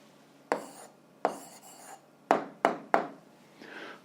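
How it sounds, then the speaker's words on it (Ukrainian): Pen or pencil writing on paper while a math answer is recorded, in a series of short scratchy strokes at close range, with brief pauses between them and no talking. "Ну що ж, записуємо відповідь, пишемо відповідь."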